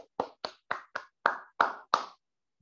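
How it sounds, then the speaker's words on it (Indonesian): A small group clapping hands together in a counseling session, seven separate crisp claps in a steady rhythm, close and clear, with no talk over them. "Tepuk tangan."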